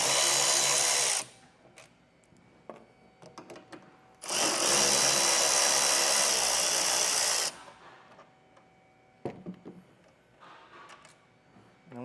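Two short bursts from a power drill backing out the 8mm screws of a taillight on a 2023 vehicle, loud and close, with brief quiet handling noises between them.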